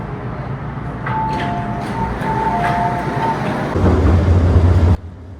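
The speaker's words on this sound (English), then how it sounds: "The train to Kennedy Town is arriving." A subway train rumbles into a Hong Kong station, brakes squealing in thin tones before a heavy low rumble swells and abruptly cuts off.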